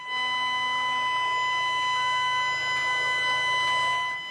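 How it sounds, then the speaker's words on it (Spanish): A steady, continuous siren tone drones on throughout amid street unrest, loud and unbroken, with a faint hum underneath and no talking. "Las sirenas se activaron."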